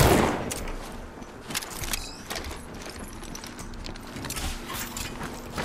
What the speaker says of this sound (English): Shooting.